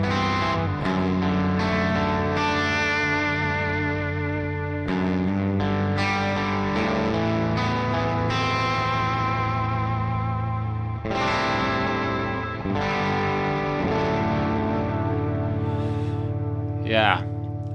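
Distorted electric guitar run through an Archetype Gojira amp plugin with a saturation stage in front, playing sustained chords and riffs with heavy gain and a chorus-like shimmer, loud and continuous, with a brief squealing pitch bend near the end.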